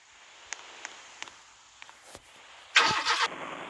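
A BMW M8 in Roblox starts up with a sudden loud engine burst near the end, preceded by faint ticking clicks over a low steady hum.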